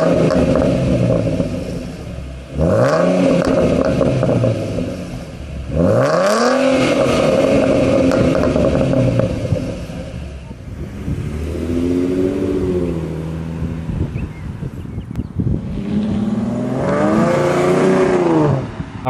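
Ford Mustang 3.7L V6 fitted with a Corsa Sport exhaust revs hard several times, each loud rising blip climbing and falling back to a deep burbling idle between pulls.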